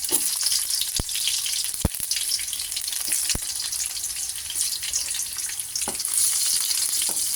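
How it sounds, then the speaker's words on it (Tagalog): Garlic sizzles in hot oil in a pan, a steady close frying hiss broken by a few sharp clicks and taps of a utensil against the pan. "Ilalagay na natin ating bawang."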